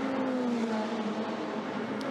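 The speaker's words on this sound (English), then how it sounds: "So here they come then. Down the start-finish line, a big snake of cars" Ferrari Challenge race cars at Bahrain International Circuit pass down the start-finish line in a pack, their engines a loud sustained whine that dips slightly in pitch as they go by, with no talking.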